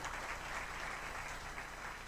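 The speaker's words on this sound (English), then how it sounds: "Can we clap for Abdi?" An audience at a Garissa High School alumni gathering claps steadily throughout, a faint, even wash of applause with no break.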